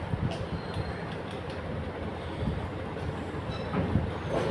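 Steady rolling rumble of a small ride-on exhibition train in motion, with faint rhythmic clacks and occasional rattles close by.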